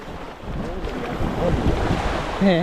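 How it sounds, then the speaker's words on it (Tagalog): Rough sea waves slosh and churn around a squid fishing boat at night, with constant wind buffeting the microphone and a faint tonal creak or call near the end. "Maalon na eh."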